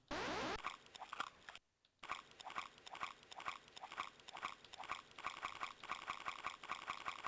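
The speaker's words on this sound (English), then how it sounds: "Is there like a munch sound somewhere in here?" Crunchy munching sound effect from the Cookie Clicker video game, a rapid series of short crisp bites repeating steadily with one brief gap, faint and alone.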